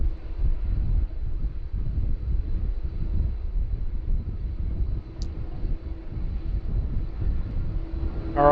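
Steady jet engine roar from an airliner moving on the tarmac at Sydney Airport in windy, rainy weather, a continuous broadband rumble mixed with wind noise and heard from a distance, with no speech.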